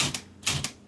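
A stuck typewriter mechanism being worked loose gives a few sharp metallic clacks and snaps in quick succession, close up and loud with no voices.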